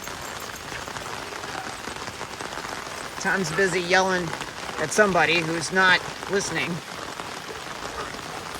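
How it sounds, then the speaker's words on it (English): Heavy rain drums steadily on an umbrella overhead, a dense close patter that runs throughout while a person talks in the middle stretch. "It's raining like crazy."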